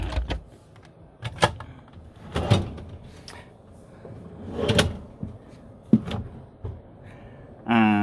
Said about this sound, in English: Got drawers down here, as you can tell. I'll close that.